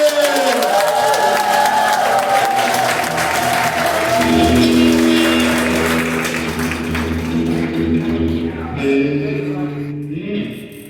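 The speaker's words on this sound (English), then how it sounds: "a big round of applause." Loud applause from a stand-up comedy audience at Brown Street Station in Chadbourn fills the room, with cheering mixed in and a steady wash of clapping that fades slightly toward the end.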